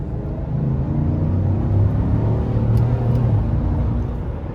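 A GMC Sierra or Chevy Silverado pickup (2014–2018) accelerating at quarter throttle, with a steady, close engine rumble and whir that builds gently and holds for several seconds, no voices.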